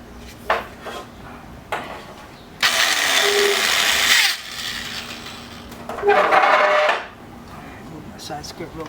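A power drill boring holes through metal, running in two loud bursts of about two seconds and one second, with scattered clanks and knocks around them.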